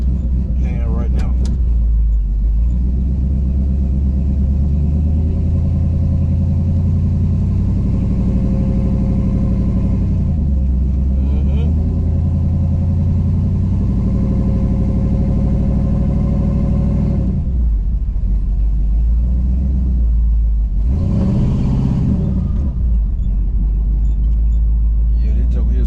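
A Buick Regal fitted with an LS engine, running sluggishly: a loud, continuous low engine drone with slow rises and falls in pitch as it revs, close by, with someone talking over it at times.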